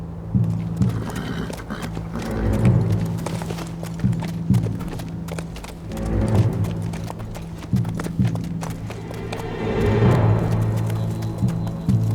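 Horse hooves clip-clop at a steady walking pace on hard ground, with each strike sharp and close, some rustling between the steps and no voices.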